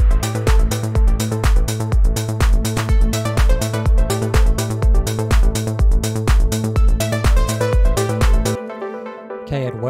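A synth lead in Ableton Live, pitched up one octave, plays a loud, repeating rhythmic pattern of bright pulsing notes over a heavy low beat, then cuts to a sustained quieter tone at the end.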